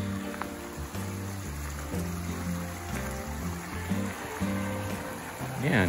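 A creek flows beside a campsite at a Blue Ridge Parkway campground, giving a steady, moderate rushing and trickling wash throughout.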